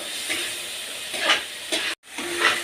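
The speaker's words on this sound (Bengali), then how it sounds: "এখানে পেঁয়াজটা কষাচ্ছি" Steady sizzling and hissing of onions frying in a pan with black cumin, with occasional stirring scrapes and a brief drop to silence midway.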